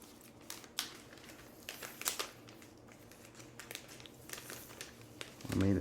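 Art piece slid into a clear plastic envelope while matting abstract art, giving soft crinkling and rustling with scattered crisp crackles, close and fairly quiet, ending in a louder low thump.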